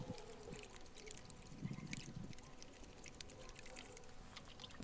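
Water and a fungicide stock solution are poured into a garden sprayer container for treating conifers, boxwood and ivy, giving a soft continuous trickle with a fuller splash of pouring midway, close and fairly quiet.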